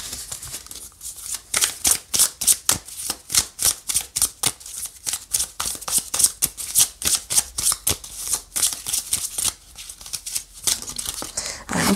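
Tarot cards being shuffled by hand, a rapid rhythmic run of crisp riffling bursts that continues steadily and close up for the whole stretch, with brief pauses near the end and no talking.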